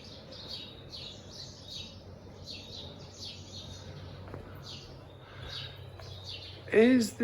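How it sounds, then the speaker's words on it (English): Birds chirp and tweet around a Spanish village, repeated short calls near and far over a soft background, with a louder burst of calls near the end. "Listen to the birds."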